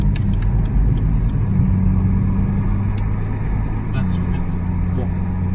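A car with its stock, factory exhaust hums and rumbles steadily while driving, a continuous low engine drone from inside the cabin with faint road noise.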